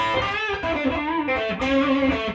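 Electric guitar played through an MXR EVH 5150 overdrive pedal into a Fender Hot Rod Deluxe amp, giving a warm, bluesy overdriven tone with sustained, ringing notes held steady and loud throughout.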